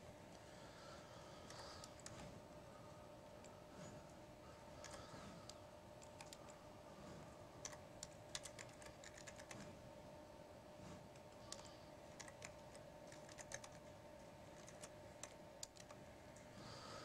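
Faint keyboard typing with scattered quick clicks over a steady background hum, entering code values for a computer science graphics lesson; no one speaks.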